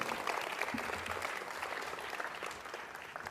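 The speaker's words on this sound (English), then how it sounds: "A round of applause, please" Audience applause at an opera company's midsummer gala fundraiser, a steady dense roar of many hands clapping, sustained and even throughout without pause.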